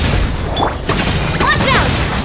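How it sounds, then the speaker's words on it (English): Fireworks-style explosions go off during a video game boss fight, with several booming bursts and crackling impacts layered with game effects and brief voice lines. "Here come the fireworks!"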